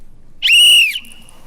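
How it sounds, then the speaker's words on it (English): A whistle is blown once, a short loud shrill blast lasting about half a second that ends with a thin trailing tone, heard alone. "I'm here today to blow the whistle."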